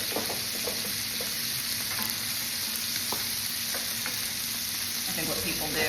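A steak sizzles steadily in a big pan of garlic olive oil while being basted, a continuous close hiss and spatter with small pops scattered through it.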